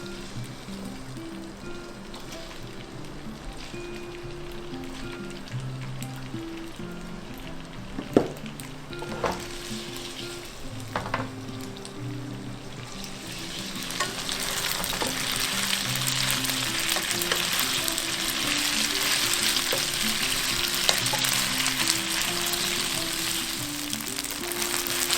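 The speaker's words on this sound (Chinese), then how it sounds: "放入板条，煎至微黄色。" Rice noodles fry in sesame oil in a wok for a vegan Hong Kong-style stir-fried noodle dish, a steady close sizzle that swells louder and brighter partway through, with a few sharp clinks of a utensil against the pan.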